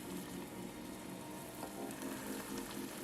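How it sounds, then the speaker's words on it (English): Small spoonfuls of black-eyed pea fritter batter fry in oil over low heat, giving a soft, steady sizzle and bubbling that runs throughout at a low level, with no talking. "I will fry these until they're golden brown"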